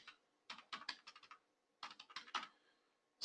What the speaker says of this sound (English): Alright, over here again I need to type my repository URL